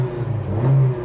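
A 2016 Honda HR-V's 1.8-liter four-cylinder i-VTEC single overhead cam engine revs up briefly, a loud close droning growl that rises and swells over about a second, no voices.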